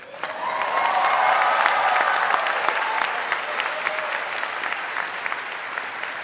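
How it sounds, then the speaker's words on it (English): A graduation commencement crowd of uniformed services medical graduates and guests bursts into loud, sustained applause with cheering, swelling quickly and then holding steady before gradually thinning. "It's okay to cheer, it's a big deal."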